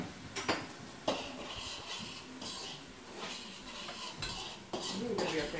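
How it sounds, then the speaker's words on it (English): A spoon scraping and clinking against a pot while stirring a rice mixture of brown rice, lima beans and peas, with soft irregular scrapes and taps, close and quiet, without talking. "Stir it together."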